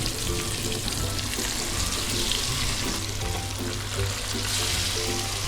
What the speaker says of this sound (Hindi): चले आइए मछली हम फ्राई करते हैं।